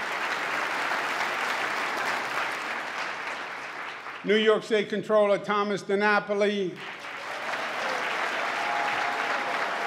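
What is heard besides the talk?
applause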